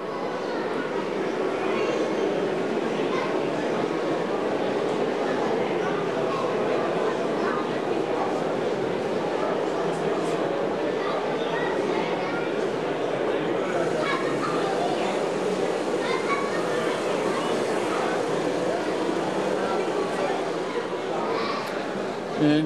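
N scale model test train running on track after a DC to DCC transfer: a steady, continuous rolling rumble of small wheels that carries on throughout, with someone talking over it.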